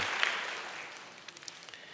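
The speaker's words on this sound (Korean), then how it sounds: "환영의 박수 부탁드립니다" Congregation applauding during a Sunday church service to welcome a member back, a spread of clapping from many hands that starts full and gradually thins out over two seconds.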